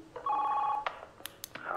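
Telephone ringing in the video game Krypta FM, with a steady electronic ring tone sounding alone for under a second, then a few short clicks and beeps afterward.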